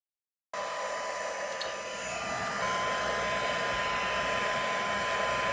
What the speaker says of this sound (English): we're going to just take our warming gun, and I'm going to put it on the warm setting